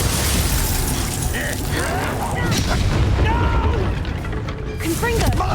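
Glacius, a freezing spell, is cast during a noisy fight in the video game Hogwarts Legacy. It comes through as a loud, sustained wash of booming, crackling impacts and whooshes, with combat effects layered throughout.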